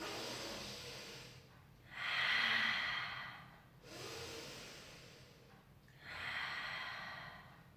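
A person breathes deeply during a pilates stretch, slow audible inhales and exhales through the nose alternating in a relaxed rhythm, close and soft with no talking.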